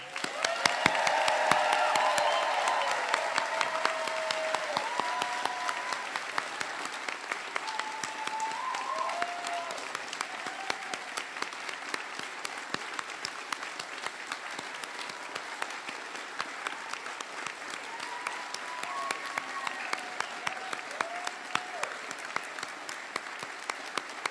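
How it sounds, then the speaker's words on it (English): Convocation crowd applauding the newest graduates of NBCCD, sustained dense clapping from a large audience with occasional cheers and voices rising through it, steady and moderately loud for the whole stretch. "join me in another round of applause for the newest alumni of NBCCD"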